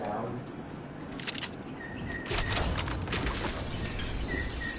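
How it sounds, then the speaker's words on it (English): Leaf bugs in the Fortnite video game chirp like birds, with a few short, bright tweets over busy game noise and rustling. "these bugs make bird sounds"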